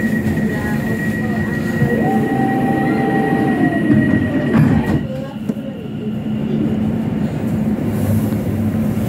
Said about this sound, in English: This is the train to Barking Riverside.